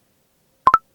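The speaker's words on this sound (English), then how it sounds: "What's this? Notification?" A phone notification chime: two rapid bright electronic beeps in quick succession, clean and loud against total silence.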